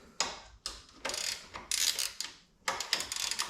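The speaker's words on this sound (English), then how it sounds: "you'll be tightening up with a 13 spanner on the inside," Metal spanners tighten the bolts of a luggage rack being fitted to a Royal Enfield Himalayan 450 motorcycle: several separate bursts of close, ratcheting metallic clicks with short pauses between them, and no talking.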